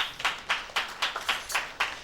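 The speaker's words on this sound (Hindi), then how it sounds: "चर्च के लिए ताली बजाएंगे भाई।" Church congregation clapping in a steady rhythm, roughly eight sharp, evenly spaced claps from a small group, fairly close and without talk.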